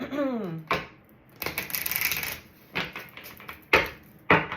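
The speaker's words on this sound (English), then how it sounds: "We're going to shuffle the cards though" A brief voice at the start, then several quick papery riffles and slaps of tarot cards being shuffled, close by, in short bursts with pauses between.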